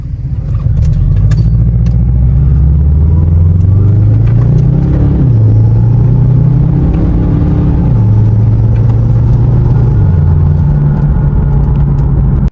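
A 2005–2009 Subaru Legacy in sport mode shifts up and down through its paddle shifters, the close, loud engine drone stepping in pitch with each gear change over a steady rumble.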